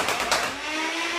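A Banshee Regge-Bolt foam dart blaster fires red waffle head darts, giving a brief, close whirring motor drone with a couple of quick thumps at the start.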